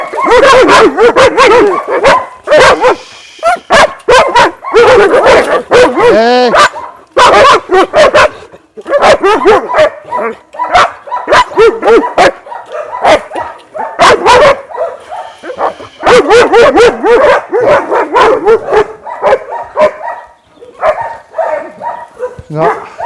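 Several dogs, including a German Shepherd, bark loudly and repeatedly in a forest, with yips and whimpers mixed in, while a person calls out over the commotion.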